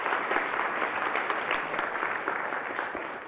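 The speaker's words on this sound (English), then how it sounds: "Can we have a round of applause?" Lecture hall audience at a university programming class applauding, a continuous even patter of many hands heard from a distance and fairly soft, with no voices over it.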